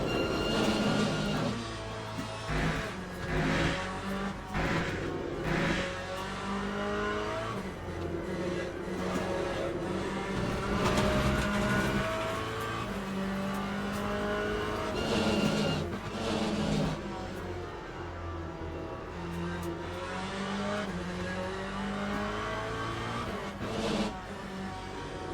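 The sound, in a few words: Corvette Z06 LMGT3.R engine at full speed, Le Mans Ultimate game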